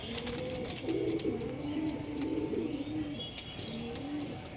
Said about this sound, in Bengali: এই পায়রাটা ম্যাচ খেলা পায়রা